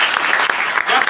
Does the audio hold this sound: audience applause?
yes